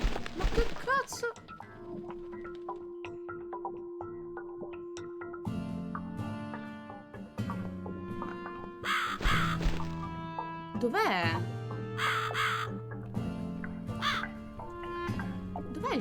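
A crow caws in the video game The Cat Lady: a few harsh calls rise over a sustained musical drone, while someone speaks Italian in between.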